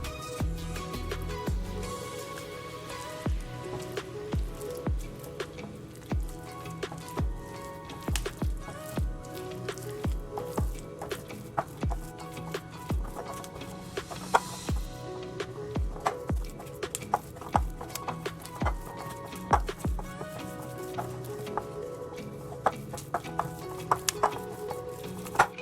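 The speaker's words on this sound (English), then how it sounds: "you want to mix it until it's well combined" Sweet rice flour and water are stirred by hand into mochi dough, making a steady run of soft, wet, squishy slaps and taps in a loose rhythm, close and fairly quiet, with no talking.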